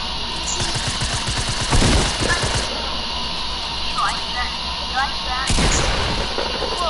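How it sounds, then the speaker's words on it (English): Shotgun blasts in a video game, with several sharp booming shots, two of them louder, under steady game noise and excited talk. "He's blasting all the shotguns."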